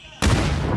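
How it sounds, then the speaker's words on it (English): A grenade explosion in the battle royale game PUBG during a Nations Cup esports match: a sudden loud, low boom bursts in after a brief quiet moment and rumbles on steadily to the end. "Grenade up and over. India. Oh, the grenade doesn't make it over the fence line."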